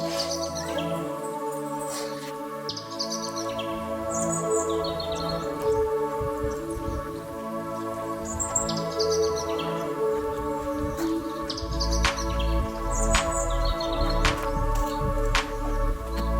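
Small birds chirp and tweet around nests at a farm home with a mango orchard, bright scattered calls repeating steadily over a soft insect-like background hum.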